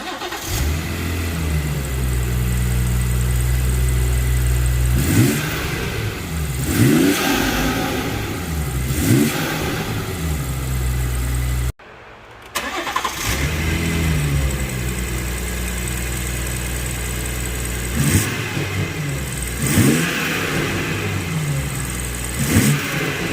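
A BMW B58 engine fitted with a BMS inlet intake pipe idles with a deep rumble and revs up repeatedly. The loud, close throttle blips rise and fall in several bursts on either side of a brief cut.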